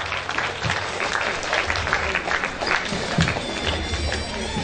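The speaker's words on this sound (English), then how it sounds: "please give a loud round of applause" Sustained applause from a state conference audience fills the hall evenly, a dense steady clapping with crowd noise throughout.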